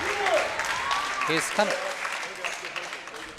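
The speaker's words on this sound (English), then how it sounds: "Listen to that cheer." A crowd at a powerlifting meet cheers and applauds after a record lift, a sustained roar with scattered shouts in the hall, while commentators talk over it.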